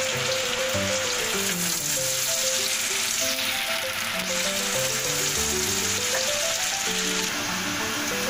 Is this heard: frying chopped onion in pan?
yes